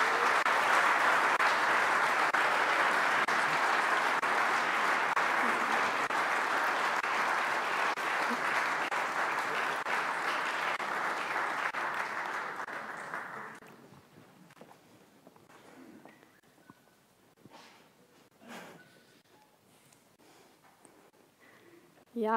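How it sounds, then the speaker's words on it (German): An audience in a university lecture hall claps loudly and steadily for several seconds as a team comes on stage, before the applause fades into scattered footsteps and small movements. "Euer Applaus."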